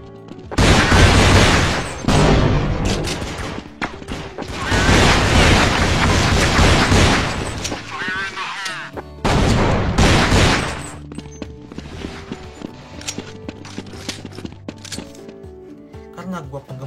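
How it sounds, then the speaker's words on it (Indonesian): Pistol gunshots from the standard Counter-Terrorist sidearm in Counter-Strike ring out as several loud, sharp bursts of rapid shots separated by quieter gaps, with other game sounds in between. "pistol ini adalah standar dari pistolnya CT atau Counter Terrorist Team yang ada di CS"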